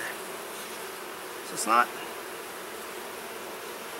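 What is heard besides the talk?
honeybees buzzing in a queenless hive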